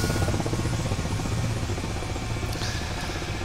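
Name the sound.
helicopter in a flight simulator video game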